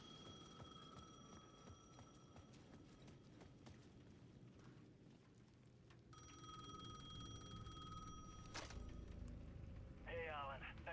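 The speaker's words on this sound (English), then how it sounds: "The payphone at the edge of the plaza was ringing again" A payphone rings out across a game's plaza at night, its metallic bell bursts repeating clearly over a steady low ambient rumble and distant background noise.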